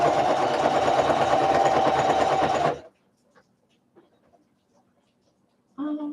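A sewing machine stitches bag fabric in a loud, close, fast whirring run. It stops, leaves a few seconds of near silence with small clicks, then starts up again briefly.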